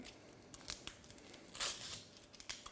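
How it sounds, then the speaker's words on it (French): Dry onion skin being peeled by hand in a kitchen, heard as close, short papery tearing and crinkling bursts, one longer rip near the middle, with no speech. "je vais éplucher également mon oignon"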